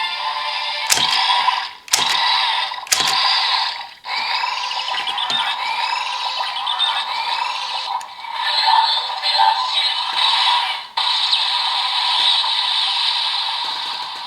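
A Kamen Rider Vrastum Gear toy henshin belt is revved three times, giving three sharp mechanical clicks. Loud electronic sound effects and music from the toy follow.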